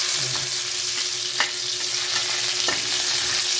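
Garlic sautéing in a pan for pancit bihon guisado gives a steady broadband sizzle throughout, with a few sharp stirring scrapes and clinks, and no talking.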